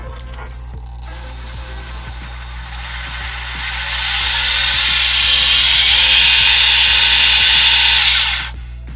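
A 3D printed 1:8 scale RC 4x4 truck drivetrain spins up fast, a rising high-pitched electric whine with gear noise that builds steadily, holds loud, then drops away abruptly.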